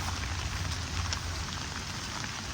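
Steady heavy rain falling outdoors in rural Thailand, a dense continuous hiss of drops on surfaces, loud and unbroken with no talking.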